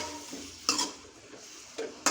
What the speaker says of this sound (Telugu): బాగా కలిపేయండి.